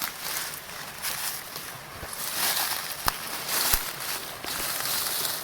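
Footsteps crunching through leaf litter in summer woods on the way to a creek, a few uneven steps with occasional sharper snaps, fairly close, over faint outdoor wind and rustle.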